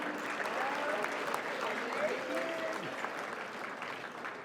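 Steady applause fills the hall at a competition finals award ceremony, many people clapping together in a thick, sustained burst that eases slightly toward the end, with some voices mixed in.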